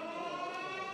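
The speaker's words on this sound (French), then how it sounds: "Un coup de corne et c'est parti." A sustained horn blast at a rugby match between Lézignan and Carcassonne, signalling the start of the second half, sounding loud and steady for the whole second without a break.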